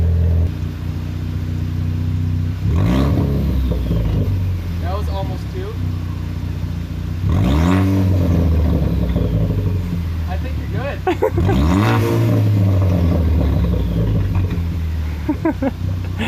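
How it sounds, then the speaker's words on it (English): A Ford Focus ST engine with a custom exhaust and electric cutout revs up in several surges, turbo whining and rising in pitch over a steady cold idle, with people talking nearby. "You hear a lot more turbo noise."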